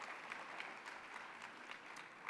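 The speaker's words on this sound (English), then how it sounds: "give them a round of applause." An audience at a LULAC gathering gives a round of applause, a faint, steady wash of many hands clapping throughout with no talk over it.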